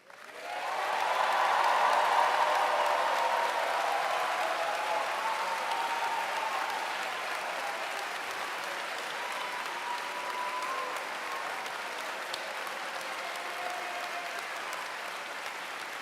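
High school graduates at the MIHS 2023 graduation ceremony applaud their staff, with a large crowd clapping continuously, swelling quickly and then holding steady and full for the whole stretch.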